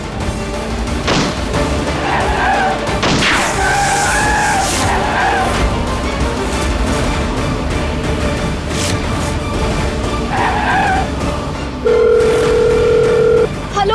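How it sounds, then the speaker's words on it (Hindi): A telephone keeps ringing with no one answering, its repeated tones rising over a steady background drone along with scattered other noises. "प्लीज कोई तो फोन उठा लीजिए"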